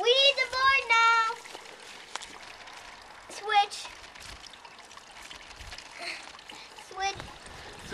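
Fresh apple cider gushes from a farm cider press like a faucet, with a steady splashing pour under excited talk from adults and children.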